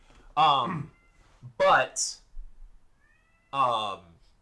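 A cat meowing indoors, three loud drawn-out meows close by with short gaps between them, plus a faint brief squeak, no talking.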